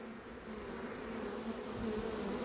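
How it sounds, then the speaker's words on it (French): Continuous dense buzzing of a honeybee swarm lodged high in a new chimney flue, steady and close, filling the whole stretch with a low drone that swells slightly toward the end, no voices. "un essaim dans une cheminée, en haut d'un conduit"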